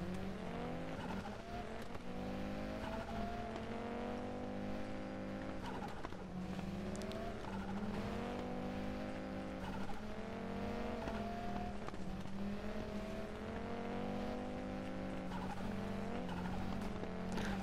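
A rally car in the racing video game WRC 10 drives at speed, its engine droning and revving in continuous rising and falling sweeps, with tires scrubbing and skidding through corners, loud and steady with no talk.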